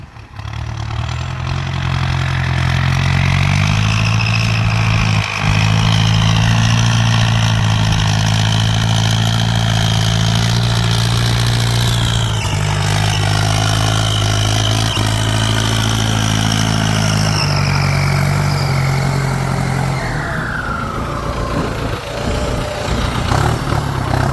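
A turbocharged Ford 5000 tractor engine runs loud and close in a steady, throbbing idle, with slight shifts in pitch as the revs change and a brief dip near the end.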